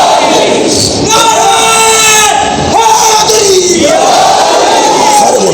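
A large crowd at a religious gathering roars the Nara-e-Haidri slogan in unison, loud, close and sustained, with voices rising and falling together in drawn-out chanted shouts.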